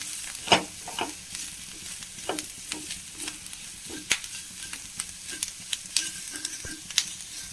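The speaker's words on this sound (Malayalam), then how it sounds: "അതൊന്നായിരിക്കും ചേർത്ത് നന്നായി ഇളക്കി കൊടുക്കാം" Potato and brinjal masala is stirred in a pan with spice powders, soft sizzling under a string of irregular scraping and tapping spoon strokes, fairly quiet and close.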